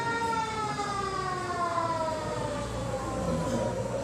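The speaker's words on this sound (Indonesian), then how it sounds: "Langsung ada sirene." A wailing siren rises and falls with a slowly drifting pitch, steady and fairly prominent over a low background rumble, with no talking.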